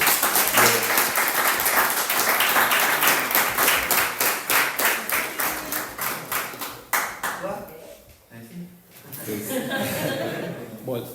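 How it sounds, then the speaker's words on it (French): A church congregation claps for the fathers on Father's Day, a dense burst of applause that thins into scattered claps and soft chuckles, followed by talking. "Nous pouvons applaudir"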